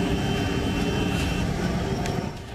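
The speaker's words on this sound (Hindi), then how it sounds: "जंगल और पहाड़ी इलाकों में हर तरफ हेलीकॉप्टर की गड़गड़ाहट सुनाई दे रही है।" A steady, loud aircraft rumble, most likely a helicopter, holds over forested hill country as a continuous engine drone that eases slightly toward the end, with no voices.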